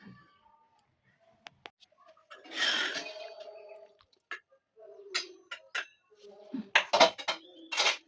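Bell-metal plates, a silver bowl and a spoon clink and clatter close by as they are set out for a home meal of fried fish and vegetables, in scattered quiet taps with a few louder ringing knocks.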